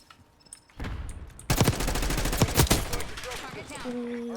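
Gunfire in Call of Duty: Black Ops 6 beta on PS4 Pro, a quiet start followed by sudden sustained automatic bursts with sharp loud shots and rattling impacts, tapering into lighter in-game effects.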